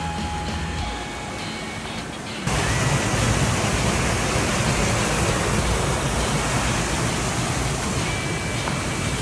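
Rushing creek water at a crossing on a rugged hiking trail, a loud steady broadband roar that swells abruptly partway through as the water gets closer, with no talk.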